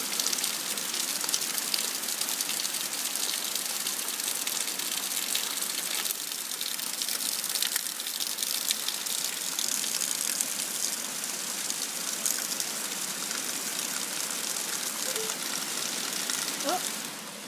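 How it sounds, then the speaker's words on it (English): Steady rain falls outside, a dense, continuous hiss of drops that stays even and fairly loud for the whole stretch. "I'll have to go look at the rain."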